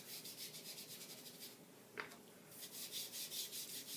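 A sponge dauber rubs ink across the textured face of a woodland embossing folder in soft, repeated scrubbing strokes that form a close, quiet rhythmic rasp, with one brief tap partway through.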